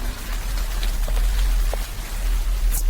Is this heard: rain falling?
yes